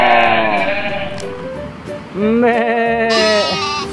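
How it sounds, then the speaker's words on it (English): A mountain goat bleating: a long, wavering bleat followed by a second, higher call, loud and close, with a person's brief exclamation nearby. "there's a mountain goat behind this tree"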